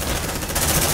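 Rapid automatic gunfire from suppressive fire in the video game Aliens Dark Descent, a dense continuous rattle lasting about a second, loud and close with no talking.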